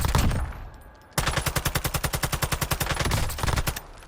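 An Attack 56 gun fires in a video game: one opening shot, then a rapid, evenly spaced automatic burst of about twenty loud rounds lasting over two seconds.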